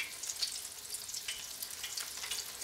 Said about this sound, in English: take your chicken and you're going to gently place each piece in your skillet